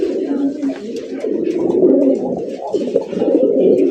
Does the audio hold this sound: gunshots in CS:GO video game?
no